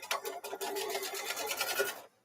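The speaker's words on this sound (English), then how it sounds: "so now I'm going to sew all the way around this because I got the two sandwiched together" A sewing machine stitches around two layered pieces of fabric for a mug rug, a steady, close mechanical whirr running for about two seconds before stopping abruptly.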